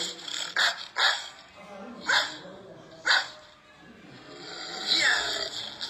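A dog barks in loud, close bursts, a quick pair followed by single barks spaced about a second apart, then a rougher growling sound near the end.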